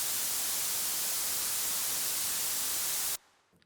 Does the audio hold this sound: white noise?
yes